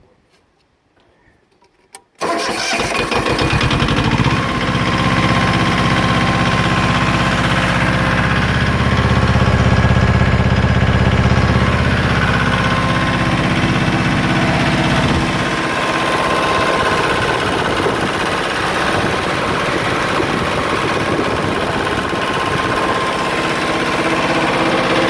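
A used Yanmar YM1500 compact diesel tractor engine cranks and catches after a short quiet spell, then settles into a loud, steady idle that continues alone for over twenty seconds.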